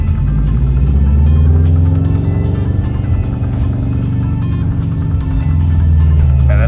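A manual stick-shift car engine revs steadily during a launch from a stop, a loud, close, continuous throbbing rumble that holds for several seconds with no talking.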